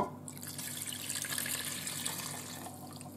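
Liquid poured into a Ninja Foodi pressure cooker while making oxtails, a steady splashing, trickling stream running nearly the full length, close by and fairly quiet, with no talk over it.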